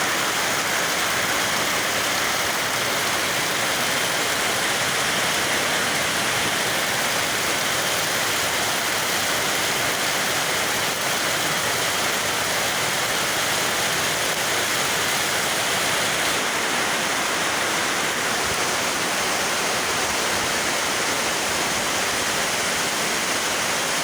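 Heavy rain pouring down in rural northeastern Thailand, a dense, unbroken roar of water falling on surfaces that stays loud and steady throughout, with no voices.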